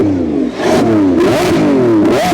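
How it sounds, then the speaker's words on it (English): A Lamborghini Revuelto engine is blipped repeatedly at a hill climb festival, loud close revs rising and falling in quick successive sweeps with a sharp, rasping tone and no talking. "You give us some revs?"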